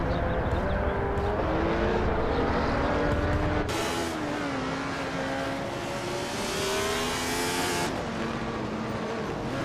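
Several cars, a 2016 Hyundai Elantra among them, race in a video game with steady, droning engine whine. Pitch shifts as cars pass, and a louder, brighter roar swells midway before easing back.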